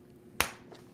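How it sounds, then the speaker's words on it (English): One sharp, loud hand clap lands close in a quiet room during a podcast live stream, a single crisp crack that decays quickly, with no talking around it. "I'm gonna clap. So watch your ears."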